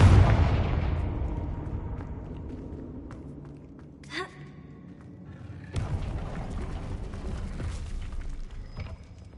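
Confringo fire-spell explosions in a video game, a heavy boom at the start fading into a long rumble, then a smaller crackling burst midway and another rush of blast noise after.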